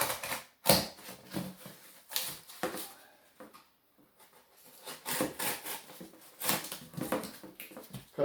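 Cardboard cutting knife slicing through fiber rush for a chair seat: a series of short, crisp cuts and scrapes close to the microphone, uneven in rhythm with brief pauses between strokes.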